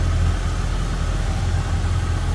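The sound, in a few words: original engine of 1971 Oldsmobile Cutlass Supreme idling smoothly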